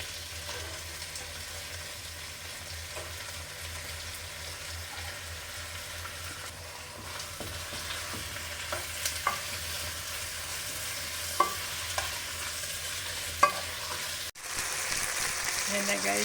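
Steady sizzling of chicken sautéing in a pan, with occasional scraping stirs and clinks of a utensil against the pan.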